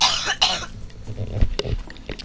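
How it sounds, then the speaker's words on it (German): A single sharp cough into a microphone during a German let's play of Risen 2: Dark Waters, followed by a few softer throat-clearing rasps and breaths, close and alone. "Sorry, ich musste kurz husten."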